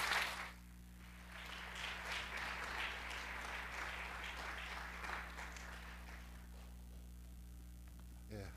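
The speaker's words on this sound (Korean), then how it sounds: "여러분 박수로 좀 해주시기" A church congregation claps during a Sunday worship service, soft and somewhat distant, holding steady for several seconds over a constant low electrical hum.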